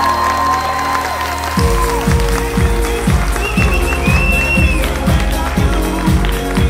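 Audience applause sends off the departing female contestants at a Norilsk bodybuilding championship, a steady broadband clatter running throughout beneath loud, pulsing music with a heavy rhythmic beat.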